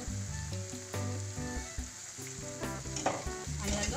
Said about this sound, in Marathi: आता यामध्ये चिरलेली कोथिंबीर टाकून घेऊया